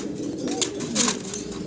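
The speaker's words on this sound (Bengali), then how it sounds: "খুব চঞ্চল কবুতরগুলো দেখতে পারতেছেন ভাই" Pigeons of the Black Magpie Pouter and Black Lahore breeds cooing softly up close, with a brief flutter of wings in a quiet setting.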